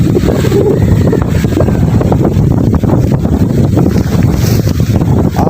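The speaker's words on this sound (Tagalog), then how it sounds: "Isang hangin." Strong wind gusts across a small chicken farm near a hut, battering the microphone in a loud, continuous low rumble that swells and dips.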